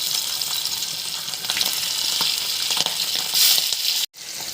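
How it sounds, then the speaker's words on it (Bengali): Hilsa fish pieces fry in oil in a pan, the first step of a hilsa and taro curry, giving a steady, close sizzle with a few scraping stirs and a sudden cut-off near the end. "প্যান বসায় প্রথমে আমি মাছগুলো ভেজে নেব"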